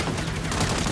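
A short, dense burst of gunfire in the 2022 Saints Row video game, loud and continuous like rapid shooting, with no talking.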